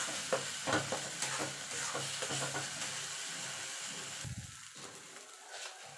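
Flat beans (sheem) stirred and cooked down in a pan until their water dries off, a steady close sizzle with scraping stir strokes through the first few seconds, quieter and sparser toward the end.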